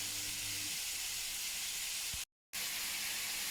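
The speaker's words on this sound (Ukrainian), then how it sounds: "Зараз пересмажу грибочки з морквою з цибулею." Mushrooms fry with carrot and onion in a pan, giving a faint, steady hiss of sizzling heard alone, with a brief dropout near the end.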